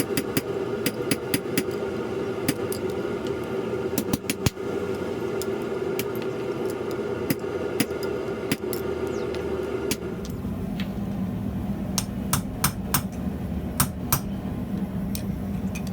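Hammer blows ring out in quick, steady rhythm as a blacksmith forges a mortise and tenon bracket on the anvil, sharp metallic strikes close up and clear over a background hum.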